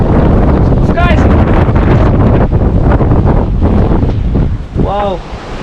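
Strong wind blows at the ocean shore and buffets the microphone with a loud, constant roar, surf rumbling beneath it and a couple of brief voiced calls.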